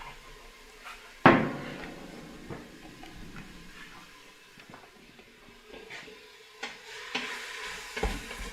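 Meat browning in an Instant Pot, a low steady sizzle with intermittent scrapes and knocks of a utensil stirring, one sharp clank early on, close and without talk.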